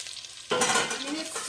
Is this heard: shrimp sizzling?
yes